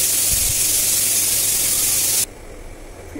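A pressure cooker vents steam after its whistles, a loud steady hiss for about two seconds that cuts off abruptly, leaving quieter kitchen background.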